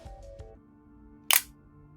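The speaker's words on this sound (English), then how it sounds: "when I press down the shutter it keeps the mirror open" A single-lens reflex camera set to bulb mode fires its shutter, and the mirror flips up and stays open. One sharp, near mechanical clack stands alone after a few faint ticks, with a quiet hum in the background.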